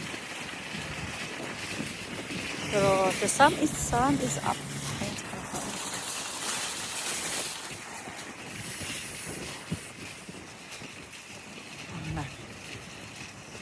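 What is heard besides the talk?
wind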